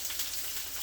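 Chopped onion dropped into smoking-hot oil in a pan, giving a steady, faint hiss and crackle of frying throughout with no voices.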